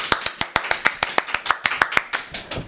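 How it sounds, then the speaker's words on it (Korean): A small studio group claps to welcome a guest: close, crisp, fairly even claps in a quick steady rhythm lasting under three seconds. "박수!"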